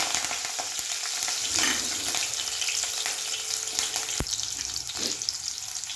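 Cumin seeds, green chilies and curry leaves sizzling in hot oil in a home kitchen pan, a continuous bright crackling hiss with occasional sharper pops and a stir, close and steady throughout.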